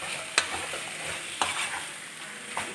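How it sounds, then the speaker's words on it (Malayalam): Chicken stirred and fried in a pan for a restaurant-style chicken gravy, giving a constant close sizzle with three sharp spoon scrapes against the pan, heard alone. "ഇത് നന്നായിട്ടൊന്ന് ഇളക്കി കൊടുത്ത് ഈ ചിക്കനൊക്കെ ഒന്ന് ഡ്രൈ ആയി വരണം."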